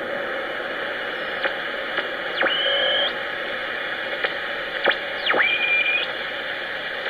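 Shortwave reception on the 25 m band through a Sproutie MK II receiver: steady static hiss with faint ticks and several sweeping whistles that slide down and settle into held tones.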